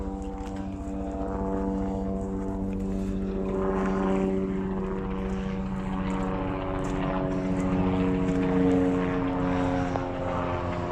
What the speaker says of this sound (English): There's a helicopter, choppy.